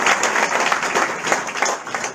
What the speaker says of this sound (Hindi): तो ताली तो बजा दो यार।